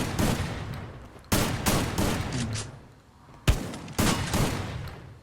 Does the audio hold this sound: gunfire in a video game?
yes